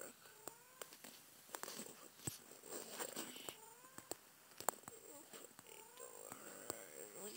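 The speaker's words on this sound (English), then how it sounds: "Stop yelling just for 1 second, cat." A cat yowls and calls in repeated drawn-out, wavering cries, faint and close, mixed with scattered clicks and taps and occasional murmured talk indoors.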